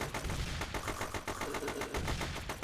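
Gunfire in the survival video game The Last Island during a zombie encounter: a loud, continuous volley of shots in fast rhythm, thick and close, with no talk over it.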